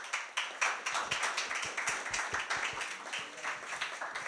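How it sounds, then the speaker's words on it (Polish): Audience applause at a youth political debate on education, a steady spread of many hands clapping for several seconds with no talk over it. "Brawa."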